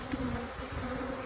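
Honey bees buzz as a hive is split into several colonies, a dense, continuous hum of many bees close up, with one steadier droning tone running through it and no talking.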